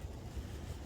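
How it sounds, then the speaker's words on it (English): Wind gusting across an open campsite, a low, rumbling, buffeting roar close to the microphone, steady for under a second. "the wind's been picking up."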